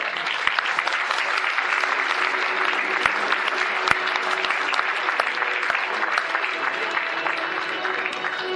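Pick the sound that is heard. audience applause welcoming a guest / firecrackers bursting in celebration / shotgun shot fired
audience applause welcoming a guest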